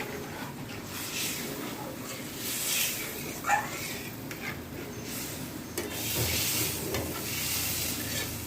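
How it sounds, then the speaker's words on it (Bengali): An egg curry spice mixture is stirred in a pan with a utensil, giving soft scraping, rubbing strokes over a faint sizzle, fairly quiet and close, with a brief louder scrape partway through. "দেখো ভালো করে নাড়িয়ে চাড়িয়ে নিলাম।"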